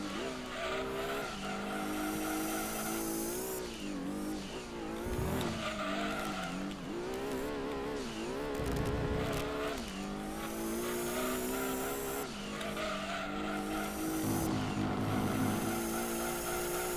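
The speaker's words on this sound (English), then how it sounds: "this car does seem to spin out sometimes" Gran Turismo 2 race car losing grip and spinning out, tires squealing in long screeching bursts over a steady, loud engine drone with revving shifts throughout.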